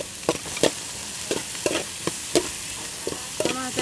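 Tomato stirred into onion frying in a pan for green beans, a steady sizzle under repeated scraping strokes of a utensil, close and without talking.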